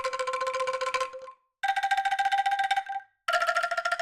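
Short shaken angklung rolls from the Orchestral Tools Sangara sample library: three sustained, rapidly rattling bamboo tones at different pitches, each held about a second and a half and separated by brief silences.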